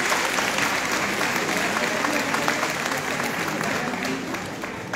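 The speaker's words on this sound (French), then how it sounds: "je voudrais aussi que vous puissiez applaudir" Applause from an audience welcoming a guest at an organ and bagpipe concert, continuous dense clapping from many hands at a steady level throughout.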